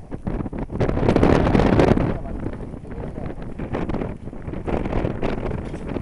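Strong mountain wind on Puigmal buffets and roars across the microphone in uneven gusts, loudest early then easing and surging again, with no clear talk over it.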